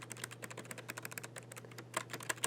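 Fast, close typing on a 1998 Acer infrared wireless keyboard, a dense run of light, short-travel key clicks with a few louder taps near the end, no voices.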